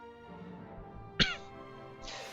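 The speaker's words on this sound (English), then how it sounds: "Forgive me for coughing" A single sharp cough close to the microphone from a man playing Dragon Quest VIII, heard over quiet game music, with a softer breathy sound shortly after.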